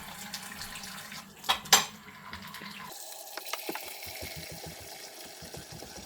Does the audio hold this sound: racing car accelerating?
no